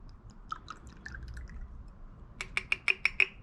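Flame Thrower cinnamon whiskey poured into a glass: a soft trickle gives way to a quick run of six or so bright, liquid glugs, close and fairly quiet.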